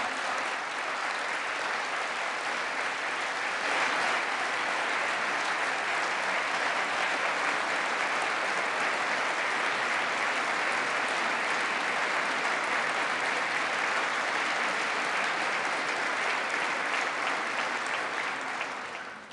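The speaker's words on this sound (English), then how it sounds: "I don't get that much applause in the Greek parliament." Sustained, loud applause fills the US Congress chamber during an address to a joint session, a dense wash of clapping that holds steady for nearly twenty seconds before easing off at the end.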